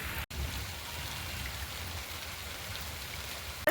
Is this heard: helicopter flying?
no